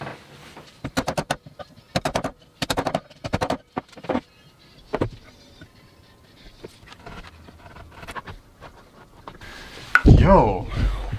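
A steel chisel struck repeatedly into hard Douglas fir while shaping Moravian workbench legs, with close, sharp knocks coming in quick clusters, then sparser taps and a louder burst of clatter at the end.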